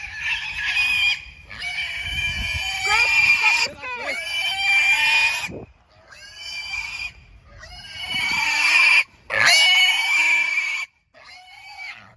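Pigs squeal loudly in long, shrill bursts separated by brief pauses, close by, with some low grunting underneath.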